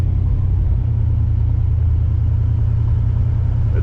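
A 1980 Pontiac Trans Am with a freshly swapped-in 400 engine idles close by, a steady deep rumble that stays even and unbroken for the whole stretch.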